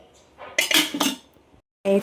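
Cutlery scrapes and clinks against dishes during a home meal of rice, tapioca and roasted-coconut chicken curry, coming in a few close, sharp bursts with brief quiet gaps.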